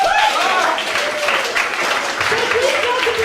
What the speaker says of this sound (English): So I need you guys to give me a big round of applause.